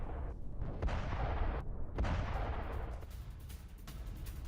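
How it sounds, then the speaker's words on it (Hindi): Several explosions from Israeli air strikes in southern Lebanon. They land in quick succession as loud, heavy booming blasts over a continuous low rumble, with no one speaking. "आप देखिए एक साथ कितने धमाके हुए"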